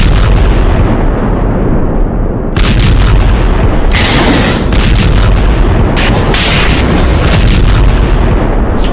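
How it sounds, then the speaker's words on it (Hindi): Heavy bombardment in Gaza: a continuous loud roar of blasts and rumbling booms, with sharper bursts around the middle and later seconds and no talk over it. "गाजा में जिस तरह की बमबारी हो रही है"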